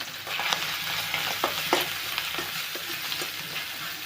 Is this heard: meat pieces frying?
yes